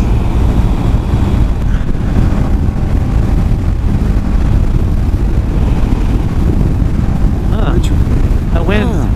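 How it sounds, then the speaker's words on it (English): Wind roars and buffets the microphone while riding along a road, a loud, continuous low rumble with no break. "That wind."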